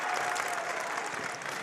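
Spectators at a Duke versus Wilson basketball game applaud and cheer in a dense, sustained burst of clapping from a crowd, loud and steady throughout the short moment.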